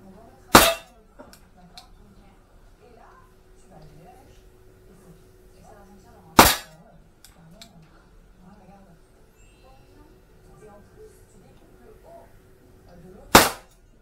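A Beretta 92 FS pistol, 1996 model, fires three separate loud sharp shots at a target several seconds apart, with quiet talking between them.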